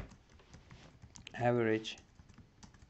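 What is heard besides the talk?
typing on a computer keyboard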